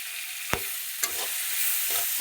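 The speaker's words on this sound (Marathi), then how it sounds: "तिखट पण टाकत आहे आपण तेलात" Chili powder hits hot oil in a pan and sizzles steadily while a utensil stirs it, with a few sharp scraping clacks. Close and fairly quiet, with no talking.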